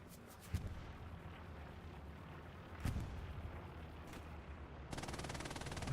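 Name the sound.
machine gun fire in a video game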